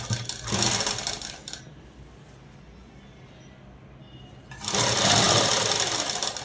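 Sewing machine stitching dress fabric, a loud steady mechanical whir in two runs separated by a few seconds of quiet, close up.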